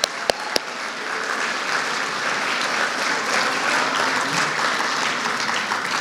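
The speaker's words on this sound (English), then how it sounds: "give them a round of applause for all these great students" Sustained audience applause for students at a senior awards night, steady and dense across the whole stretch with a couple of sharp claps at the start, loud and close with no talking over it.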